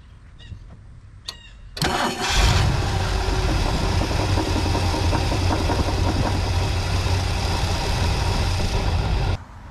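A 1969 Lincoln 460 V8 engine cranks and catches at once, then settles into a steady, loud idle up close, with faint clicks beforehand.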